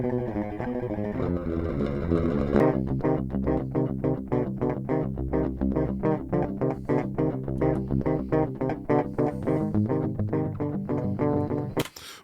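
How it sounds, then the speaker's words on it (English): Dry electric guitar recorded straight into a converter with no amp or effects, giving a thin, clean tone. Opening notes ring, then a steady run of rapid, evenly spaced picked notes continues for about ten seconds, close and unaccompanied. "take a dry guitar track, record it in with no amps, no effects, no nothing, just guitar"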